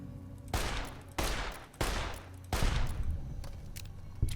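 Gunfire in the video game Fallout New Vegas while shooting scorpions with pistols, four loud close bursts of shots with short gaps between them, each ringing out before the next.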